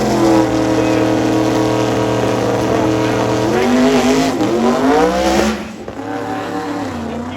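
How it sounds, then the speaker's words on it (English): Modified-category drag race cars, an S10 and a G8, launch off the starting line at Gainesville Raceway during Sick Week 2023, engines roaring loud and rising in pitch as the tires shake, then a shift and renewed acceleration. "See the car kind of shake the tires a little bit right off the starting line"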